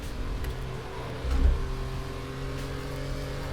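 A Singer Porsche 911 built on a 1990 964, with Williams-developed cylinder heads, drones steadily in the RaceRoom racing game, its engine note swelling briefly in a short rev before settling back to a constant hum.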